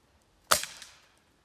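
One sharp, crisp air rifle shot cracks nearby during scope zeroing, followed by a brief fading ring, with silence before and after.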